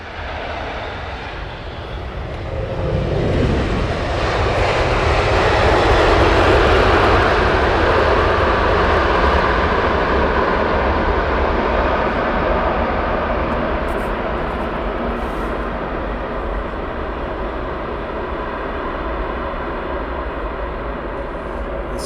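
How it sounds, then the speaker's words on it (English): An American Airlines Dreamliner jet comes in to land on Heathrow runway 27R, its broad engine roar swelling over a few seconds, holding loud, then easing off slowly as it passes. "Dreamliner."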